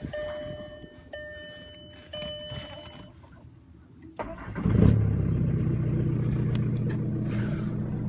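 A 2000 Jetta TDI diesel, fitted with a plugged-in heater, cold-starts at -31°F. Warning chimes ring first, then a brief crank catches and the engine settles into a loud, steady idle close by.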